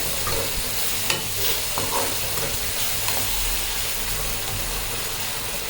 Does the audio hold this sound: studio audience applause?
no